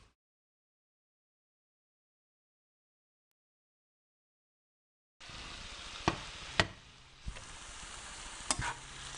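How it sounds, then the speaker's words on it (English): Minced beef browns in a frying pan, a soft sizzle starting after about five seconds of silence, with a few sharp scrapes and clicks of a spatula stirring the meat. "So the mince is browning away quite nicely now"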